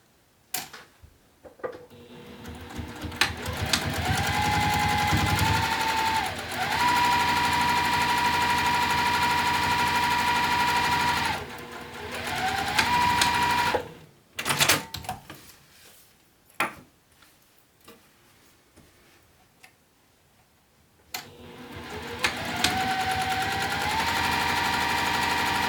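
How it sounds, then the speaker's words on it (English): Sewing machine stitching a half-inch seam on a fabric apothecary bag: several long, steady motor runs with a rising whir at each start, broken by pauses, clicks and handling noises, close and loud with no talking. "I'm just going to lock in these stitches and do my 1/2 of an inch seam allowance"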